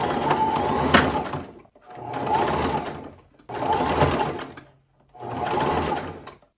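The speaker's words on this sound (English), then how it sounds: "And now I'm just going to sew a seam so that we have a clean edge." A sewing machine runs a seam along folded skirt fabric in four separate bursts of rapid, close stitching, each lasting about a second and a half, with short quiet pauses between them.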